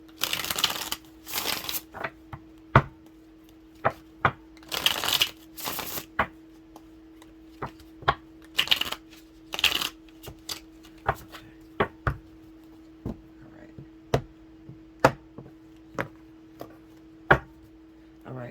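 Tarot cards being shuffled during a zodiac reading: bursts of riffling alternate with sharp single snaps and taps as cards are handled and laid down, close and clear over a steady low hum, with no talking.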